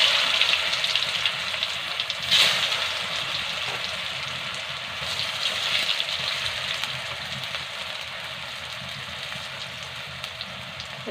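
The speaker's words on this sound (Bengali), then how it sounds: "এই যে হাফ সিদ্ধ করে রেখেছিলাম আলুগুলো, এগুলো দিয়ে একটু ভেজে নেব।" Half-boiled potatoes frying in hot oil with turmeric give off a steady, close crackling sizzle that holds at a low level with no talking.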